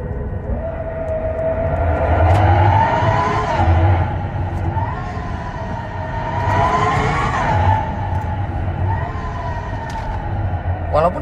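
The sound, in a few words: Hyundai Ioniq 5 N synthetic engine sound, supersonic mode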